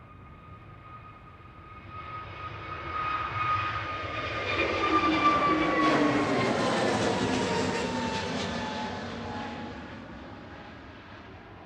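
A Sky Cargo jet arrives at Manchester Airport, its engine roar swelling from distant to close over several seconds with a whining tone sliding downward, then slowly fading.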